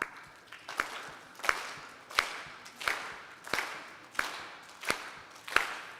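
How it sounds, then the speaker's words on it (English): A group of kids at a church camp clap their hands together in unison, nine or so sharp, evenly spaced claps with a steady rhythm, fairly close and moderately loud, with no talking between them. "Let's clap."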